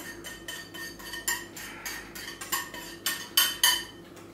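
Peanut butter cupcake batter being mixed in a bowl: a utensil clinks and scrapes against the bowl in a quick, steady rhythm of light taps, close and clear, with no talking.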